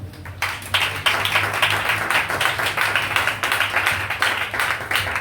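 A church congregation claps in praise, a loud, crowd-wide patter of hands that settles into a quick, steady rhythm after a brief quiet start and keeps going without pause.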